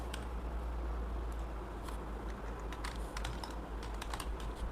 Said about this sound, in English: Why I'm typing this much?